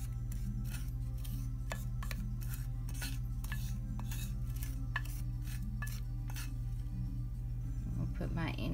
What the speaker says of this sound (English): So you stir it up really good.